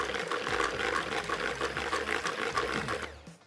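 Yorkshire pudding batter is whisked by hand in a bowl, giving a fast, rhythmic, fairly faint swishing and tapping that runs steadily for a few seconds and then stops.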